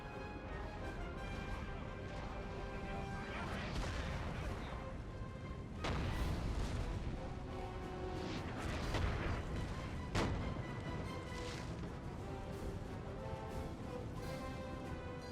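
Cannon artillery fire in Napoleon: Total War, with repeated booming shots at irregular intervals, several sharp close blasts standing out over a constant roar of battle and musket noise.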